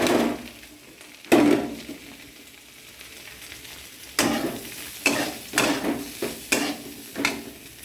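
Fried egg and vegetables tipped from a plate into hot oil for egg chow mein, raising a loud burst of sizzling, then a run of scraping stirring strokes over steady frying crackle, close and without talk.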